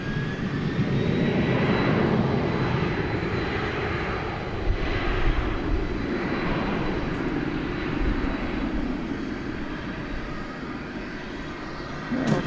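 American Airlines jet airliner taking off from runway 18 left at DFW airport at night, a loud broad roar that swells and slowly fades as the plane climbs away, with no voices.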